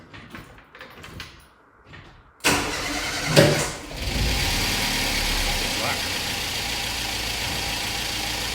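A Ford Fiesta XRV van's engine cranks and fires after a few seconds of talk, then settles into a steady, close idle with a brief rev near the start.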